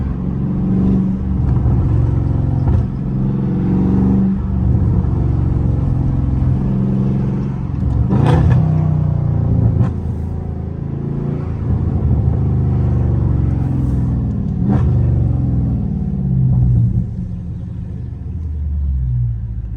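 A Dodge Scat Pack in busy traffic gives a constant deep engine rumble from inside the car, with a few sharp pops or clicks over it and no clear rise in revs.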